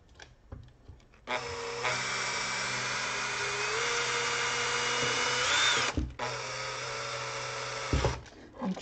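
A power drill boring guide holes through wood for a homemade soap cutter, whining steadily at high speed for several seconds, briefly cutting out, then starting again, close and loud after a few faint knocks.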